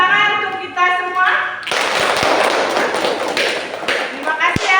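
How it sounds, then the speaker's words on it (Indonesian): Classroom of students clapping their hands together after a group presentation, a burst of dense applause that starts abruptly partway through and continues strongly, with talking before it begins. "Tepuk tangan untuk kita semua."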